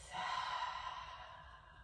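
During a yoga sequence, a single long exhale through the mouth comes as a close, breathy, sigh-like rush of air that slowly fades out.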